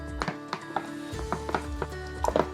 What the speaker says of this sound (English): I'm gonna go ahead and stir this up.